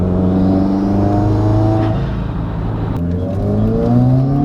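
A Subaru WRX with an aftermarket exhaust revs loudly and steadily through a throaty exhaust, pitch rising and settling, with a few crackling backfire pops.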